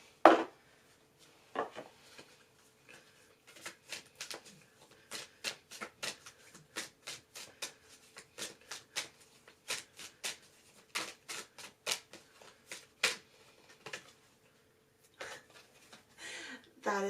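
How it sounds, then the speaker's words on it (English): Numerology cards shuffled and drawn from a deck: a long run of crisp, close taps and papery snaps in an uneven rhythm, with short pauses between bursts, alone and fairly quiet. "let's pull a numerology card."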